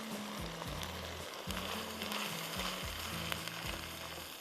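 Half a cup of unwhisked yogurt hits a hot pan of cooking masala and sizzles steadily, a close, continuous frying hiss with faint stirring and low background music underneath.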